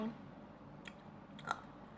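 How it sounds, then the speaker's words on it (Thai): Biting into an unusual crunchy snack, a couple of faint crisp cracks close to the mic against a low room hiss, with no talking. "กัดมันลงไป"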